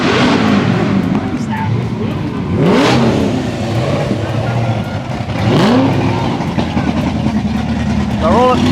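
Crowds of cars cruise past along Banna Avenue during a moving car show of over 500 vehicles, engines rumbling and revving in passing sweeps, with people talking over the steady traffic.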